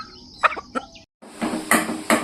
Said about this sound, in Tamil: இப்போ அந்த கோழி குஞ்சு வந்து அந்த சேவலுக்கு பயந்துக்கிட்டு திங்காமல் இருக்கேன்.